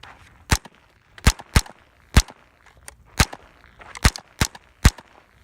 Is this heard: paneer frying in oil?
no